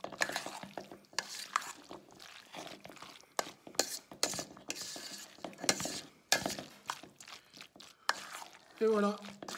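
Cooked diced vegetables for a macédoine are gently mixed with a utensil in a bowl or dish, giving soft, repeated close stirring scrapes and occasional light clinks in an irregular rhythm.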